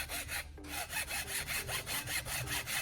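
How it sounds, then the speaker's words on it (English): A hacksaw cuts through the metal ferrule and bristles of a brush with a wooden handle, making steady rhythmic rasping strokes, close up with no talk. "Using a hacksaw, I'm carefully cutting the metal ferrule and bristles off"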